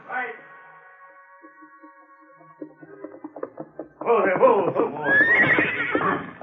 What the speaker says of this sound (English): The great stallion was looking at his master and straining to be free as Jack and Carl held his bridle